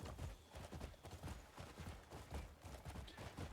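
Horse hooves clip-clop steadily in a fast riding rhythm from a video game, dense repeated thuds running continuously at close, moderate loudness.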